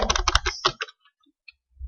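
Close, crisp computer keyboard typing of code comes as a fast flurry of keystrokes lasting under a second, followed by near silence and a couple of faint isolated taps.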